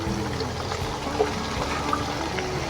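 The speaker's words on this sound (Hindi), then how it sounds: "इसके अंदर हमने थोड़ा सा ना पानी ऐड करना है" Water poured into hot ghee with chillies and spices in a cooking pan for an aloo matar vegetable dish, a steady continuous splashing pour close by with no talking.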